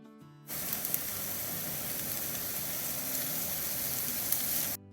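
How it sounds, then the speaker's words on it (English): Onions and chicken malai tikka skewers sizzle in ghee on a hot pan, a steady, close frying hiss that starts abruptly and holds evenly with small crackles before cutting off. "I'm going to let it sizzle for like a couple minutes. So when the onions sizzle on the ghee"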